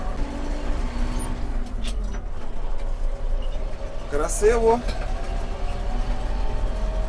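A DTZ 5504NK Chinese tractor drives at low speed while its gearbox warms up, the engine a steady low rumble throughout, with someone speaking briefly over it.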